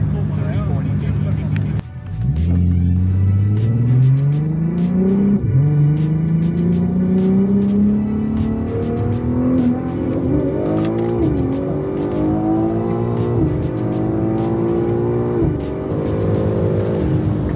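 A single-turbo BMW M3 with a stock motor roars through a hard 40 mph roll race at about 28 PSI, the engine note climbing steadily through several gear shifts and staying loud and close for the whole pull.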